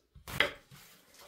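A kitchen knife slicing half an onion into thin strips on a cutting board for yeolmu kimchi: a couple of quick, close thuds with a crisp crunch, then quiet.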